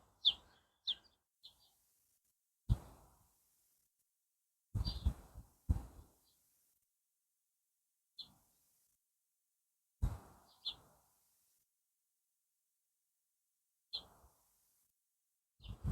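A blackbird in a wild Welsh garden gives short, sharp call notes spaced apart by quiet gaps, alongside a few soft low thumps, in an otherwise still outdoor setting.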